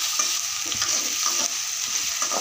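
Crushed garlic fries in a home kitchen pan, a steady close sizzle with soft stirring scrapes recurring in an uneven rhythm, heard alone.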